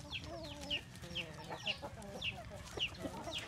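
Native chickens cluck softly and continuously, a repeated rhythmic clucking with higher peeping notes from chicks, faint and close together.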